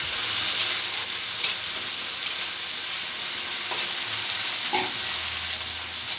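Spice paste for a chicken and potato curry fries in a pan with a constant bright sizzle, broken by several sharp scrapes and taps of a spatula as it is stirred close by.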